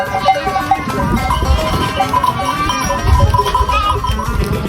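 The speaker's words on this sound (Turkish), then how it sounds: "Bunlar keçileri" A herd of goats bleats repeatedly during a Yörük nomadic migration, overlapping calls near and far, against a steady outdoor rumble.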